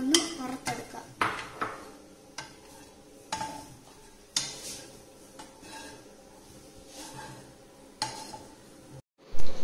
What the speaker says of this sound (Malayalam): ചൂടായ പാനിലേക്ക് ഞാൻ കുറച്ച് നെയ്യ് ഒഴിച്ചു കൊടുക്കുകയാണ്. ആദ്യമായി നമുക്ക് കാഷ്യൂ നട്ട്സ് എടുത്ത് ഇതൊന്ന് വറുത്തെടുക്കാം.